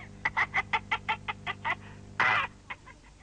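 Cartoon chickens clucking in a quick rhythmic series of about a dozen close, clear clucks, followed by a brief squawk and a couple of final clucks, with no talk over them.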